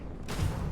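Laser weapon fired from a player's spaceship in Starfield, a single sustained burst that swells in after a quiet start and holds steady, close and moderately loud.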